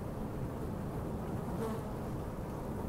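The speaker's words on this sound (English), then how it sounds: "One insect that you might see in your neighborhood is the American sand wasp." American sand wasps buzz steadily outdoors beside a creek in a residential neighbourhood, a continuous close insect drone with no voices.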